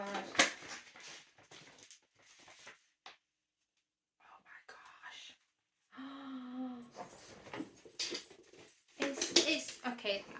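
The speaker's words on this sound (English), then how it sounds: "The dogs are very excited." Excited dogs whimpering indoors, high-pitched whines and whimpers in bursts between soft whispered talking, close and fairly quiet.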